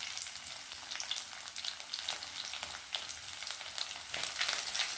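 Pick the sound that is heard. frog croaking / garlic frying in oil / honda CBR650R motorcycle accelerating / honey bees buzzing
garlic frying in oil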